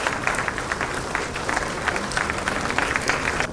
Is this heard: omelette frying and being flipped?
no